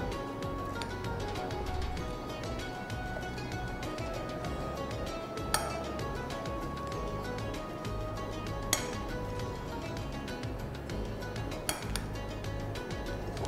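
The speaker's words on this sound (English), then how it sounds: "And we will mix it." Chopped turnip and tomato salad tossed in a bowl, giving a steady run of soft clinks and utensil taps against the dish, with a few sharper pings standing out, close and fairly quiet with no talking.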